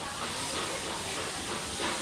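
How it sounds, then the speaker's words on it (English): A steam train at Magic Kingdom gives off a faint, steady hiss that goes on without a break, heard from some distance. "you can hear the train."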